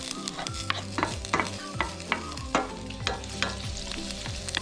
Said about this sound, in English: Want to make sure our oil is hot enough. Now guys, at this time I'm going to go in with my garlic.